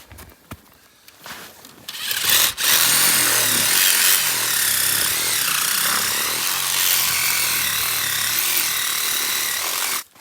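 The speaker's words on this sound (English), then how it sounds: "I'll just go ahead and remove this head. You want to hand me that sawzall?" A Sawzall reciprocating saw cuts through a moose's neck to remove the head during field dressing in Alaska. Brief handling knocks come first, then a loud, close, continuous buzzing saw runs steadily to the end.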